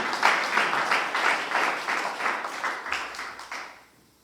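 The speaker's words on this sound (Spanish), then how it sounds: "Una de palmas al Señor con todo el corazón" A church congregation claps in a steady rhythmic beat in praise of the Lord, moderately loud and continuous before fading out at the end.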